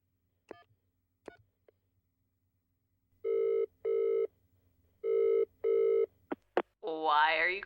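Telephone ringback tone while placing a call: a few faint clicks, then four paired ring bursts in a steady rhythm, followed by short beeps and a voice as the line picks up.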